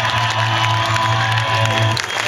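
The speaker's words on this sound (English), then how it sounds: "Applause for the ladies here." Audience applause and cheering at a metal concert in Bistrita, a dense steady wash of clapping from a crowd, loud and continuous throughout.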